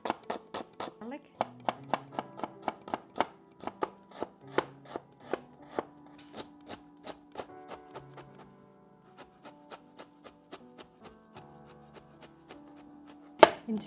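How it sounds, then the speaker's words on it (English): A knife chopping ginger into thin slices on a cutting board, with many crisp, close, evenly spaced knocks that slow and soften toward the end before one final louder chop. "cut up a few slices of ginger and add these into my rice directly"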